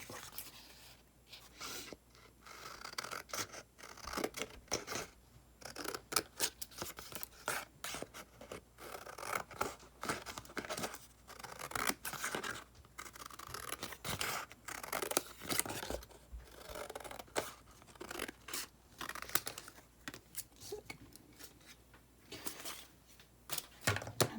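Scissors cut out paper in a long run of close, crisp snips and rustling slices, irregular and continuous, with paper handling noises between cuts and no speech.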